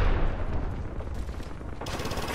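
A Kraber sniper rifle fires in a video game, a loud, dense blast of gunfire-like noise with a heavy low rumble that stays strong and close for the whole moment.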